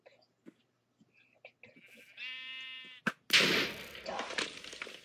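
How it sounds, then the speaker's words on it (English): A single wavering bleat from a sheep in the Minecraft video game sounds near and clear for about a second, then a sharp slam and a burst of noisy crackling follow, with a few soft clicks before it. "A sheep."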